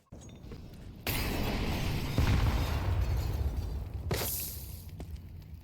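A molotov burns in CS2 with a steady roaring crackle of fire that swells after a second, holds loud and near, then flares again before fading slightly, no voices.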